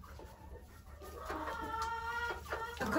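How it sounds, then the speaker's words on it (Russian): A speckled hen clucks in a farmyard, a few short nasal calls rising over a low, steady background hum, close and moderately loud. "Какая рябая курица."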